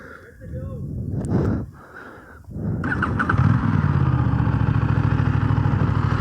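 Aprilia RS 457 motorcycle engine idling in neutral, a steady close rumble that settles in after a few seconds of revving and mechanical clatter, with a voice talking over the start.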